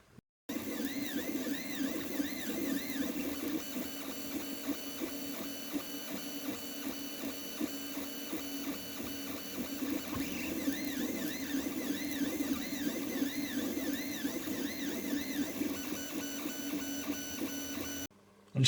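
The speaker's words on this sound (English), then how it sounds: "these have got fire up the 3D printer." A 3D printer prints a small rotary knob, its stepper motors whirring steadily with repeating tonal warbles and a constant low hum, close and unbroken for the full length with no talking.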